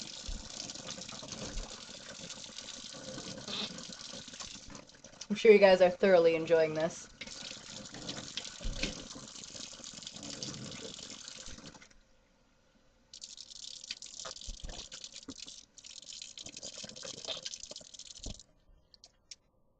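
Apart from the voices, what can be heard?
tap water running while rinsing the mouth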